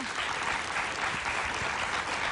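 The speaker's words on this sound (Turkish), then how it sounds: "Arkadaşlarımız kocaman alkışları Bilal için gönderiyor." Studio audience on a Turkish word-and-numbers quiz show bursting into strong, sustained applause, a dense, even clatter of many hands filling the room at constant loudness.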